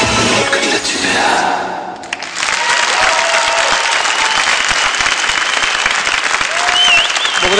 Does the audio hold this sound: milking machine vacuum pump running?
no